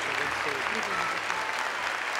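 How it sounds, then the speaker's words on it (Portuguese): A church congregation at a Catholic worship camp gives sustained, dense applause, steady and fairly loud throughout, with a faint voice beneath the clapping. "Vamos aplaudir ao Senhor."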